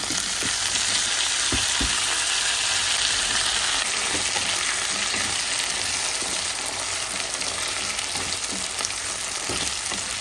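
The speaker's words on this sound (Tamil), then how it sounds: "உருளைக்கிழங்கு நல்லா எண்ணெயிலே ஃப்ரை ஆகட்டும்." Cut potatoes fry in hot oil with garlic, giving a steady, close sizzle and crackle that holds evenly throughout with occasional stirring knocks.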